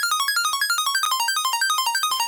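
A bright synth arpeggio in happy hardcore style, built from a saw wave with nine unison voices, runs in rapid, evenly spaced stepping notes, steady and moderately loud with no voice.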